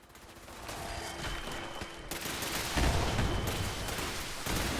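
Rocket launcher fire in the Fallout 76 video game, a dense loud barrage of blasts and gunfire rolling continuously with heavier booms near the end.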